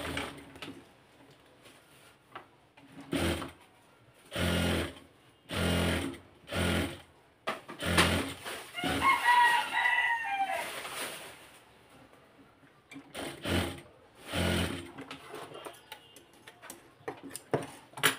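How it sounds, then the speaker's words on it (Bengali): A sewing machine stitches a trouser pocket in short bursts, about eight runs of rapid ticking separated by pauses, with a faint chirp partway through. "তো আমি আপনাদেরকে একটা সেলাই করে দেখাচ্ছি"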